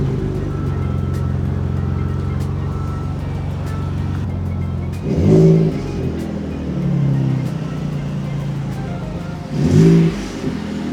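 A 2019 Shelby Baja Raptor idles with a steady rumble, then its engine blips and revs twice in short bursts, with a brief swell between them, all recorded close by.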